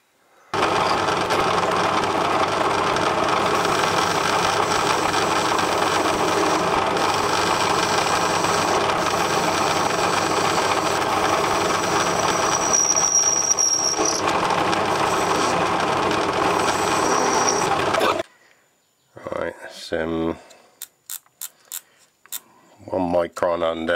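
Lathe turning a Stuart 10V model steam engine crankshaft down to 10mm, a steady motor hum and cutting whir running for about 18 seconds, then stopping as a voice speaks.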